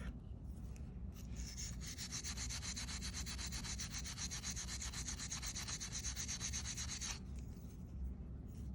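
Steady abrasive rubbing, like sanding or filing, on the back of a piece of soldered silverware being made into a heart, running continuously for about six seconds in near, even strokes.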